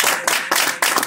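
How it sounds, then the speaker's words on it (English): A church congregation clapping hands in praise during a service: three loud, close bursts of many hands clapping in quick succession. "let's give God a clap of hands tonight"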